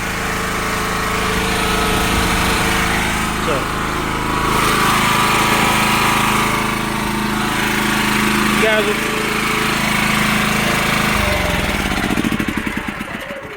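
A propane-fueled generator engine in a homemade enclosure with an exhaust fan drones steadily at close range, loud and continuous, with a brief spoken word near the start and the engine note shifting toward the end.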